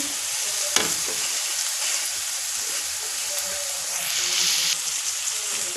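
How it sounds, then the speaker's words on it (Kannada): Boiled cluster beans being stirred as they fry in a pan for a Karnataka-style palya, a steady broadband sizzle running throughout with scraping stir strokes and brief clicks, close and fairly loud, with no talk. "ಚೌಳಿಕಾಯಿ ಹಾಕಿ ಚೆನ್ನಾಗಿ ಕಲಿಸ್ಕೋಬೇಕು."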